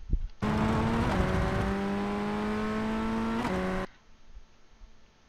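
Ray FF1600 race car engine at Hockenheimring in a racing video game, a loud steady high-revving drone with rising harmonic pitch and a brief upshift, then cutting off to quiet idle-like rumble.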